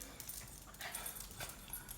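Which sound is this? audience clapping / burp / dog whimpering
dog whimpering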